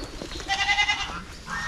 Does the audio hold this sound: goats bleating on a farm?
yes